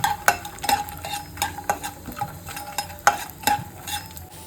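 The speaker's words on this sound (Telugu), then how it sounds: "ఇప్పుడు ఇవన్నీ కూడా ఎర్రగా వేయించుకోవాలి" Fox nuts and raisins frying in oil in a pan, a soft sizzle under repeated crisp clinks and scrapes of a spoon stirring them, close and rhythmic, no voices.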